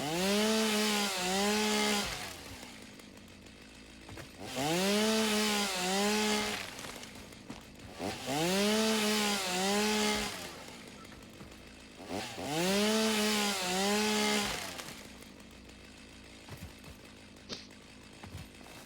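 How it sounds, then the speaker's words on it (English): Chainsaw in the video game Satisfactory cutting down trees, four long revving bursts with rising and falling engine pitch, separated by short quiet gaps, fairly loud and close. "I'm gonna switch the chainsaw for a minute and take some of these down"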